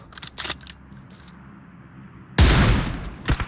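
Gunfire in PUBG Mobile on the Erangel map: a few faint distant shots early, then a loud, close burst of rapid automatic fire with a final couple of shots.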